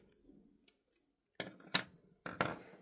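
Scissors snip away the excess paper cord from a crocheted motif for a summer bag. After near silence come three sharp, close cuts in quick succession.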